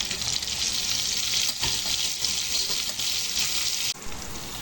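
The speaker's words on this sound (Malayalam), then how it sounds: "ഇനി നമുക്ക് സവാളയും പച്ചമുളകും ചേർക്കാം." Onions and green chillies frying in a pan for a fish curry, giving a loud, steady, close sizzle that carries on without a break, with brief stirring scrapes and one sharp dip near the end.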